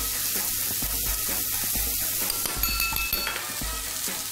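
Vegetables stir-frying in a pan for a Chinese-style dish give off a steady, close sizzle, with a few light metallic clinks partway through.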